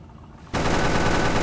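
Rapid automatic gunfire from the tank combat game Clash of Panzer: Tank bursts in after a half-second lull, loud, dense and continuous, with no talking.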